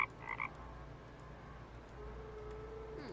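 A frog croaks in the point-and-click game The Night of the Rabbit, a short burst of a few quick croaks at the start, followed by quiet ambient background.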